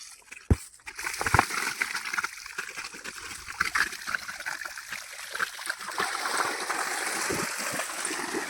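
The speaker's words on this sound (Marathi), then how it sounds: "फक्त एवढंसं पाणी चाललंय" Water runs from a pipe into a farm tank, a soft continuous trickle and splash, with a few sharp knocks early on and the flow growing fuller toward the end.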